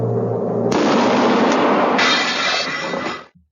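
A loud, close cannon blast in a comedy sketch, erupting as one heavy boom that rolls on as a roaring rumble for about three seconds before cutting off abruptly.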